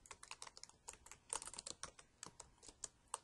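Rapid keystrokes on a computer keyboard, close and crisp, in uneven bursts of clicks with short pauses and no talking.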